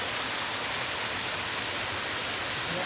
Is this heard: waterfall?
yes